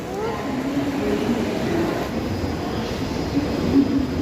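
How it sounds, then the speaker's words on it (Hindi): A Delhi metro train runs with a steady rumbling roar and faint wheel squeal, heard from inside over continuous noise, with people talking quietly under it. "अब हम यहाँ से दूसरी मेट्रो पकड़ेंगे तो सीधा कालका जी जाएगी।"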